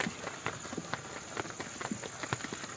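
Light patter of scattered raindrops falling on surfaces, soft irregular ticks over a steady background hiss.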